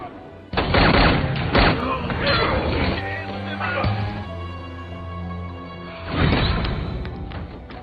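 A shootout scene from a crime action film, with bursts of rapid gunfire and crashing impacts at the start and again near the end, heard under a narrating voice.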